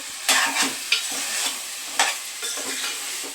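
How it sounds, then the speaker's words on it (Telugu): Chicken for a chukka koora curry cooking in a covered pan, giving a soft continuous sizzle with several sharp scraping stirs and clinks throughout. "చికెన్ వేసి మూత పెట్టాం కదా, అది ఎలా ఉడుకుతుందో చూడండి."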